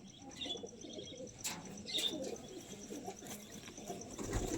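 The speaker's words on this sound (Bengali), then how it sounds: "পায়রার দুপরের বাচ্চা আছে।" Pigeons kept at home coo softly in a quiet setting, with a few faint chirps among the low, fairly distant calls.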